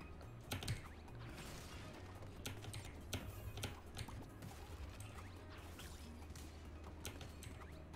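Computer keyboard keys tap and clack quietly in quick irregular bursts while Crash Bandicoot 4 is played, with low game sounds running underneath.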